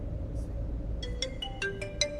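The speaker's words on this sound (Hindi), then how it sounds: "डैडा का फोन आ रहा है" An incoming-call ringtone chirps in a bright rising melody of short repeated tones in a Hindi TV drama scene, starting after a second and playing over low background hum.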